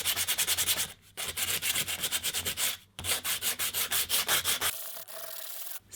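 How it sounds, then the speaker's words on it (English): Sandpaper rubs over a kitchen towel and aluminium apple sculpture in quick, rhythmic back-and-forth strokes, with brief pauses between bursts, close and loud, with no speech. "I'm going to sand it now."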